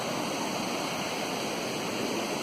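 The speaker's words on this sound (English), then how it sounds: "we got water running across the road" Water overflowing from Thunder Lake runs across a muddy road in a steady, loud, close rushing wash with no break, like a small stream or spillway and with no voices.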